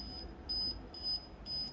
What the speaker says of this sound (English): sometimes it will make a beep sound, like a warning sound.